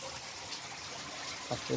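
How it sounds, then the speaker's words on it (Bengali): A fountain in a courtyard at a birthday party in Qatar runs with a faint, continuous splash and trickle of water, heard at a distance, with a couple of brief sharper sounds near the end. "এখানে ঝর্ণা চলতেছে"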